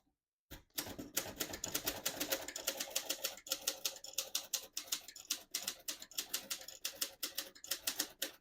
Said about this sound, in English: Ultimate classic typewriter. Feels, sounds, and looks classic.